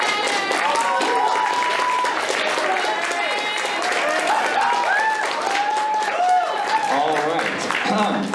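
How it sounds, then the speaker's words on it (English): A university debate audience applauds student debaters, a steady wash of clapping with a crowd murmur and voices mixed in throughout. "Can we get a round of applause for our debaters?"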